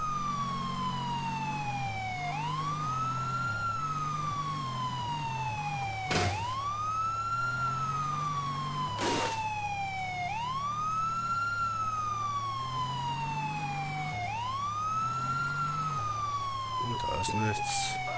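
A police car siren in the PC video game Trapped Dead Lockdown wails in repeated rising and falling sweeps, loud and steady throughout, with a continuous low engine drone beneath it and a couple of sharp clicks.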